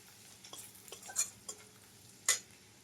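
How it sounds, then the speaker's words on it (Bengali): Chopped garlic lightly frying in a pan, a quiet steady sizzle broken by a few sharp spoon scrapes and clinks against the pan, with no talking. "কুচিটা দিয়ে হালকা করে একটু ভেজে নেব।"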